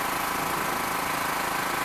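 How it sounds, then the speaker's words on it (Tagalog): A loud motorcycle engine runs close by, a rough, steady rattling drone with no break. "May maingay na motor dito"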